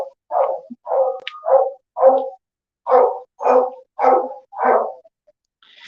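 Dogs at an animal shelter in Honolulu bark in a rapid series of about nine sharp, loud woofs with short gaps between them, close by, with a faint yip at the end and no talking.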